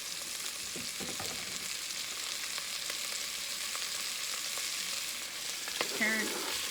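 Onion sizzling and sautéing in hot olive oil in a pan for beef bourguignon, a steady close frying hiss with occasional stirring scrapes, no voices.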